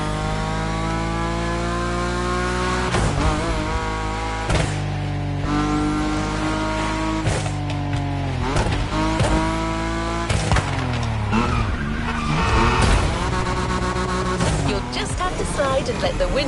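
Drifting cars with engines revving and tires sliding high above the ground among wind turbines in central Hawaii in The Crew Motorfest, loud and sustained with shifting engine tones and a voice talking over it.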